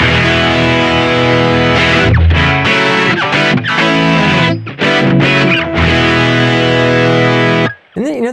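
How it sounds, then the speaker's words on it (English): Electric guitar played through a Boss GP-10 Hex Fuzz patch, with even distortion on every string and a stereo spread: loud, dense fuzzed chords ringing for several seconds with brief gaps, then cutting off near the end. "Same amount of distortion on every string."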